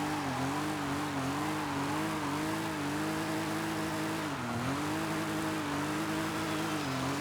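A car engine revs steadily in Forza Horizon 5, a continuous loud, close drone whose pitch wavers up and down with a dip near the middle, alone throughout.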